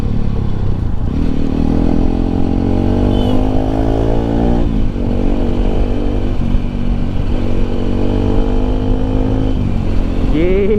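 A Bajaj Pulsar RS 200 motorcycle with a stock exhaust rides through city traffic, its engine loud and steady, rising and falling through gear changes with a burbling note as it downshifts, while a rider talks over it.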